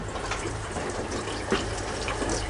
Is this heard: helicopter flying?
no